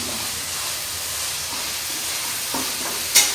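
Onions and tomatoes sautéing in a home kitchen pan give a steady close sizzle and hiss throughout, with a brief clink near the end and no talking.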